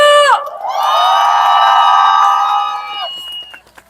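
Crowd at a nighttime candlelight rally in front of the National Assembly in Seoul cheers loudly after a student choir performance, with sustained high-pitched shouting and whoops rising together, then tapering off near the end.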